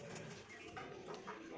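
Pigeons cooing inside a large loft housing high flyer breeds, soft low murmuring coos blending together continuously amid faint background noise, with no clear single call standing out.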